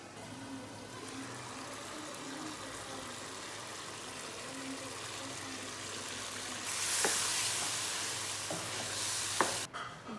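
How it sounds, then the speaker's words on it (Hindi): Potatoes frying in a pot for chana pulao, a soft, quiet sizzle that swells into a louder hiss midway, with a few faint utensil taps and no talking. "सिर्फ आलू को मैंने अच्छी तरह इसकी बुनाई करनी है"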